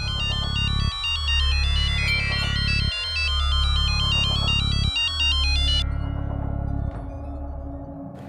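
A phone ringtone repeats in a loud, bright electronic pattern, several evenly spaced rings with a low pulsing tone under each, then stops near the end.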